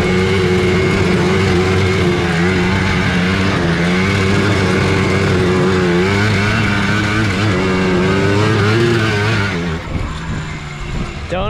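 A four-wheeler ATV engine revs hard and steadily while spinning donuts, its pitch wavering up and down close by before the throttle drops off near the end.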